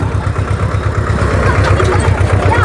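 A tractor engine idles with a steady low rhythmic throb at a crowded religious gathering in Kutch, running continuously under nearby voices.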